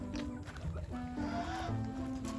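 Maclean Hatch gamefowl chicken clucking in short, close, repeated calls over a steady low background hum.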